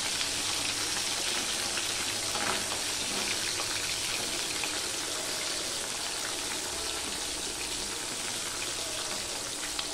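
Fish heads frying in hot oil for a Bengali kochu shak dish, a steady dense sizzle and crackle filling the whole stretch at even loudness, with no talking.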